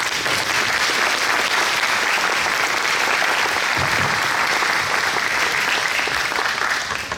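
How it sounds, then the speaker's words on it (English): Audience applause at a meeting, steady dense clapping from a crowd that holds loud and even for the whole stretch without a break. "Give an applause."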